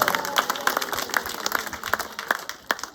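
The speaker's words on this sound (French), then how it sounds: "Applaudissons très fort pour nos bienfaiteurs" Scattered applause for school benefactors at a Catholic school blessing ceremony, many hands clapping at an irregular rhythm, moderately near, with no talk over it.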